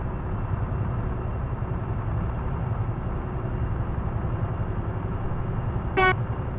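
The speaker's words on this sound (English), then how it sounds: "Oh, it's got a noisy horn." A single short blast from a truck horn, loud and high, sounds against a constant low engine rumble and road noise inside the cab, with a thin steady whine running throughout.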